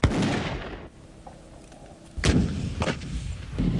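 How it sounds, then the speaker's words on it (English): A Marine Dragon guided anti-tank missile fires with a sharp heavy blast that rolls away, followed by further booming reports and rumbling, loud and outdoors with no voices. "the Marines use the Dragon guided anti-tank missile"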